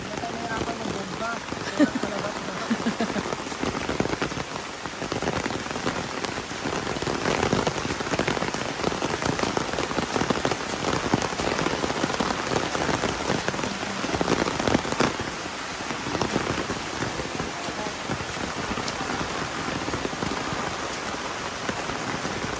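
Steady rain pours down across a surface, a dense continuous patter that never lets up, with faint voices now and then beneath it.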